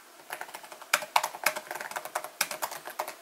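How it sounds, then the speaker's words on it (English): Rapid clicking of keys on a 2016 13-inch MacBook Pro keyboard, close and crisp, in irregular bursts with brief pauses between keystrokes. "My really only complaint about the keyboard is when you type on it"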